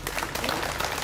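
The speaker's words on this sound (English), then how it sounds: "Applause in front of Modesto City Hall Thursday as Mayor Suze Wallen announced" Crowd clapping in open air in front of Modesto City Hall, a brisk, even patter of many hands, fairly faint and continuous for the brief moment.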